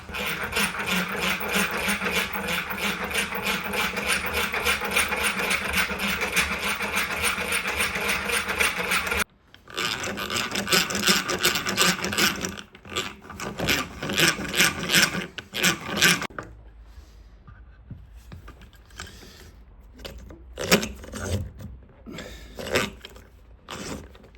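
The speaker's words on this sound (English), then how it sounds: "So I'm using a hand drill here." Rhythmic grinding and ratcheting of a hand-cranked drill biting into soft basswood, continuous at first, then pausing and resuming in shorter bursts.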